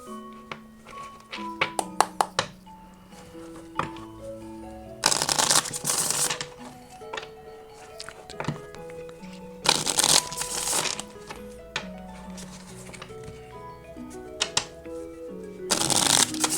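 Oracle cards being shuffled by hand during a reading, with repeated bursts of riffling and rustling card noise alongside softer taps and slides of cards on a table, close and fairly quiet.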